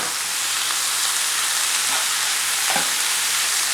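Two large chopped tomatoes frying in a pan for a Turkish-style egg breakfast, a loud, dense, steady sizzle and hiss close up, with a faint stir near the end and no talking.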